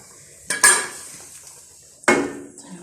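Dal tempered in a pot, with two sharp metallic clanks followed by a brief sizzle and stirring, close and fairly loud, no talking.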